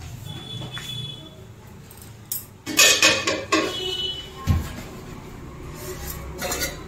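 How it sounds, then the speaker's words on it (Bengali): A metal lid is lifted off a pot of steamed semolina-dough puli pitha, giving a cluster of clattering clinks and scrapes mid-clip, then a single knock, over a low steady background hum. "ঢাকনাটা তুলছি।"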